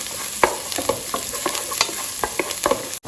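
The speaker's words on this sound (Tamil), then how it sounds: "நல்லா பொன்னிறமாக வதக்கணும்" Onions and coriander leaves fry until golden in a pan, giving a steady sizzle with repeated scrapes and clinks of a stirring spoon at a quick, uneven rhythm, close and fairly loud.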